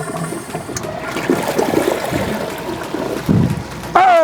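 A toilet flushes a plush toy, a close, loud rush of swirling water that builds and gurgles, then ends in a sharp refill surge.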